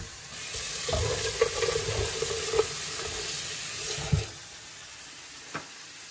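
Leftover curry reheating in a home kitchen pan, a steady sizzle and frying hiss running throughout with a few scattered clinks and scrapes of a spoon stirring.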